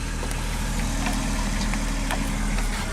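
A 1973 Dodge car with 31,000 original miles running, a steady low engine rumble that holds level throughout, heard from close by with faint ticking on top and no talking.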